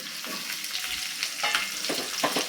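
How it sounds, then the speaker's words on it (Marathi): Sliced onion frying in ghee in a pan with whole spices, a continuous close sizzle with occasional scraping stirs and soft clinks over it. "हा कांदा छानपैकी ट्रान्सपरंट होईपर्यंत छान शिजेपर्यंत आपल्याला मस्त या तुपासोबत फ्राय करून घ्यायचं आहे"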